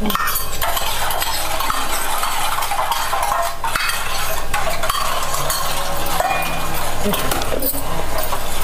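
Flour-substitute batter being stirred steadily to keep lumps from forming, a continuous scraping and swishing with light utensil clinks, fairly loud and close with a busy kitchen bed throughout.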